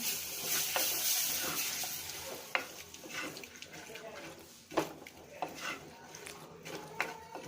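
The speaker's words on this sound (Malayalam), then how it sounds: "ഇതിലേക്ക് കുറച്ച് വെള്ളം ഒഴിച്ച് ഒന്ന് മിക്സാക്കി കൊടുക്കാം" Water poured into a pan of sardine curry masala with chilli powder, then stirred, giving a running splash followed by scattered scraping and mixing clatters near the mic.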